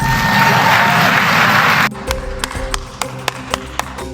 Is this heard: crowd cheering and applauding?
yes